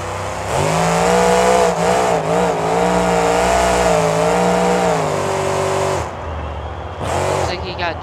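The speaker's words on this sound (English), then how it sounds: "Mark in the Devastator truck" The Devastator monster truck's engine roars loud and close in a Monster Jam arena, a sustained throaty drone that rises and surges in pitch, then cuts off abruptly and returns as one brief final blast.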